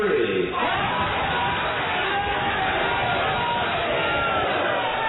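A live radio-show audience in Sacramento shouts a message together on a count of three, a loud sustained wash of many voices cheering and yelling at once, filling the whole stretch without pause.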